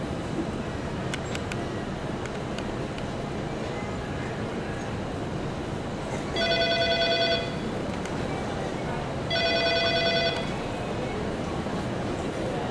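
Telephone ringing in two long electronic bursts a few seconds apart, each about a second long, clear over a constant background rumble.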